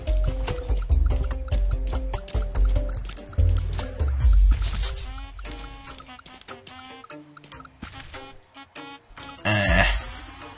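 Goat bleats from the Goat Simulator video game, a string of wavering cries over game music and effects, loud and close, with a burst of busier sound near the end.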